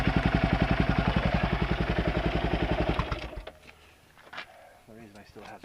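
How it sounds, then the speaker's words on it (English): Kawasaki KLR 650 single-cylinder motorcycle idling in the cold to warm up, a loud, steady close thump for about three seconds before it cuts off, leaving faint rustling and a brief distant voice. "The reason I still have the bike running is because it is cold enough that I do actually want to warm the engine up"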